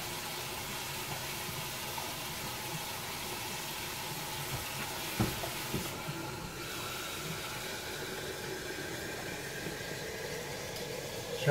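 Two electric kettles heat water in a kitchen, giving a steady, fairly quiet hiss and low rumble that holds constant throughout, with no talking.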